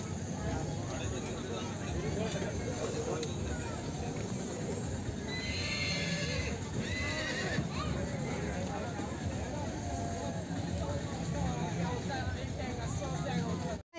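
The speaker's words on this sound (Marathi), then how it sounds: "हे पा किती भारी घोडे, मस्त पांढरं शुभ्र घोडे" Horses whinny amid the crowd at the Chetak Festival horse fair in Sarangkheda, with a brief neigh rising midway over constant babble and people talking.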